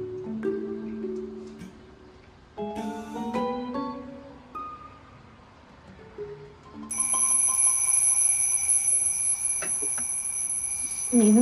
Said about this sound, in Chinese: 不是闹钟，是日程提醒。